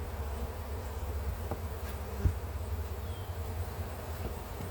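Honey bees buzz steadily around an open hive while honey is being pulled, a dense continuous drone close by with a soft tap and faint rustling beneath it.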